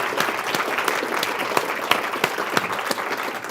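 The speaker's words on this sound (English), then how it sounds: "let's have an applause for our" An audience at a team-building session claps for its members, a lively crowd of hands with a few sharp, louder individual claps standing out over the steady patter.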